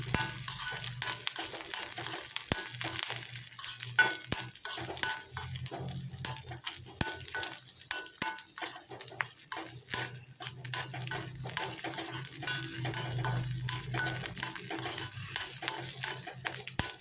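Ingredients for tintaku pachhadi fry in a pan, a soft continuous sizzle broken by frequent scraping stirs and clinks of a spoon against the pan, with no voices.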